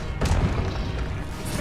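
Incendio fire spell cast in a Harry Potter video game: a dense, roaring blast with a sharp onset and a rumbling whoosh that fills the whole moment.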